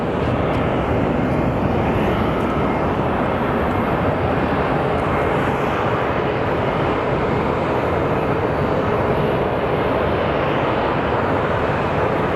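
A United airliner races down the runway at Sky Harbor Airport with a loud, steady engine roar and broadband rumble that holds constant throughout, with no voices.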